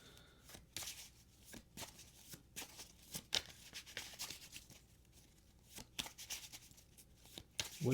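Tarot cards being shuffled and handled at close range, with a steady run of soft riffling and papery flicks and taps, each brief and crisp, carrying on with no speech.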